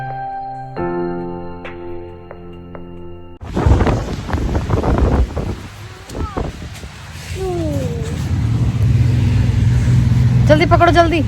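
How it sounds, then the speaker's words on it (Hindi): Strong wind gusting outdoors during a snow storm, a loud roaring rush buffeting the microphone that builds and stays steady after a quieter start, with people talking over it. "अभी बाहर बहुत ज़्यादा हवा चल रही है।"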